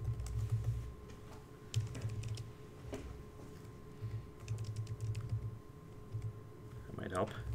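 Rapid, uneven clacking of a computer keyboard during a live terminal demo at a Linux conference talk. The keystrokes come in bursts and pauses under a steady electrical hum, and a presenter's voice can be heard at times.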